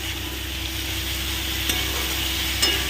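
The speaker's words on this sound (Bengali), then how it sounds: "সুন্দর করে কিন্তু ভালো করে এই সোয়াবিনটাকে পুরো মশলাটা দিয়ে কষিয়ে নেবে" Soybean chunks stir-fried with spices in a pan for a vegetarian soybean tadka, giving a steady close sizzle with faint stirring scrapes and a couple of brief clinks, no voices.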